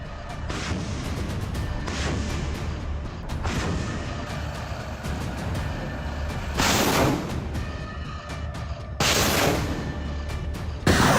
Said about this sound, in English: At that moment, Russian Grad MLRS artillery opened fire intensely